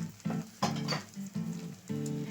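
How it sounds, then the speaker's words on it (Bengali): Spice masala of turmeric, cumin and coriander powder frying in a pan, loud sizzling bursts in repeated pulses roughly every half second, close and without talk. "দিয়ে মশলাটা একটু কষে নেব।"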